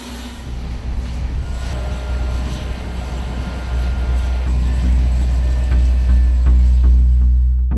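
A military LCAC hovercraft carrying armored vehicles comes in to land with a loud, continuous roar of engines and fans, a deep rumble that swells steadily and stays close.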